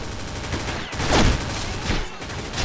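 Rapid bursts of loud 12-gauge shotgun fire crackle through a Resident Evil game scene, several heavy shots booming in quick succession with no talking.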